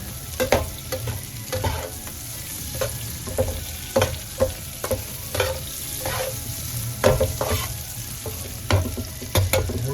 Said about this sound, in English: We're just going to let that simmer for a few minutes